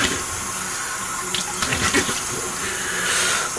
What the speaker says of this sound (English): It's cold water rinse.